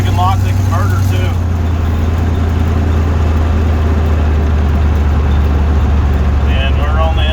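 A vehicle engine hums at low revs around 1200 RPM in third gear with the torque converter locked, a steady loud low drone with road noise under continuous speech.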